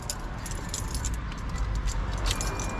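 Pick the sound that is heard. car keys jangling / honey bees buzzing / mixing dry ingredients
car keys jangling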